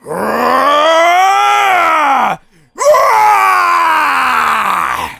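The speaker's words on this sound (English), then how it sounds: "Beerus starts screaming." Beerus, the Dragon Ball animated character, lets out two long, loud, strained screams, broken by a brief pause, with a rising and falling pitch and a rough, roaring edge.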